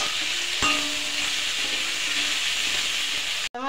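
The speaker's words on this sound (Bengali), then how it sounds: "হলুদ দিলাম, লঙ্কা দিলাম কাঁচা লঙ্কা, দিয়ে একটু ভাজা ভাজা করে নেব" Vegetables with turmeric and green chilli fry in a pan, making a steady, close hiss with one metallic clink early on, then a brief cut just before the end.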